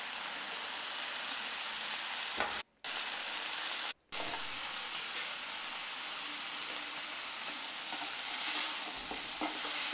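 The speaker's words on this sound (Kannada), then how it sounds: "ನೋಡಿ, ಫ್ರೈ ಆಗ್ತಾಯಿದೆ." Whole cinnamon, cloves, pepper and cardamom fry in a pan for chicken sambar masala with a continuous dense crackling sizzle like rain, close and steady for the whole stretch, broken by two brief silent gaps.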